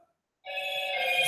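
A mobile phone ringtone starts abruptly and rings on steadily, a bright electronic tone with layered harmonics, close and loud with no talk over it.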